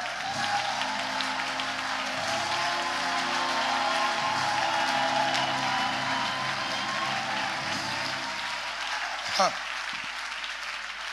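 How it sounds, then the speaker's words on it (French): A church congregation applauding and acclaiming the Lord, a dense, sustained wash of clapping and cheering voices that carries on for several seconds before dying away, with a short high whistle near the end. "Acclame le Seigneur pour toi-même."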